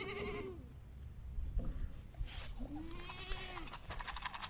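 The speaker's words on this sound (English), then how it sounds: "some sort of meat goat, Georgia brush goat" A Georgia brush meat goat bleats in long wavering calls, two clear bleats with a few shorter sounds and rustling between them, close by on a farm.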